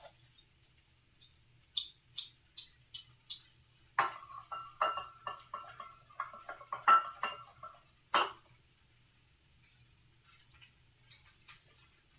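Metal measuring spoons held together on a ring clink and rattle as they are washed. Irregular bright jingles come in clusters over a quiet background, some close and sharp, others lighter, with no talking.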